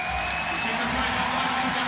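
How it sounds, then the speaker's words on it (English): Applause fills a handball arena at a women's world championship final between Germany and Norway, a steady wash of crowd clapping and noise, with a commentator's voice faintly under it. "Applause around the arena as Reistad collects a 2-minute suspension."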